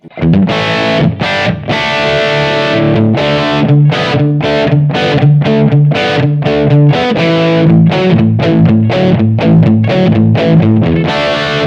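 Loud electric guitar with a crunchy, overdriven classic 70s rock tone, shaped by a BOSS eBand JS-10, plays a steady rock riff of chopped chords, continuous and up close with no talking.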